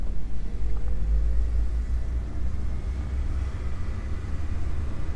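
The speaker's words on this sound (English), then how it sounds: "we can go down the road a little ways and see how it rides and see how this intake sounds" A 300,000-mile Acura RSX Type-S DC5 with an aftermarket intake driving down the road, a steady low engine and road rumble heard from inside the car, with no voices.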